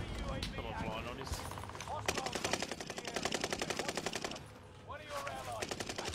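Rapid automatic gunfire rattles in bursts during a Warzone battle royale match, loud and sustained, with someone talking over and between the shots.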